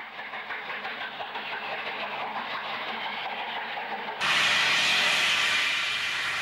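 A steam locomotive in New South Wales hisses steadily and loudly, then a sharper, brighter blast of escaping steam bursts in and continues to the end, with no talk.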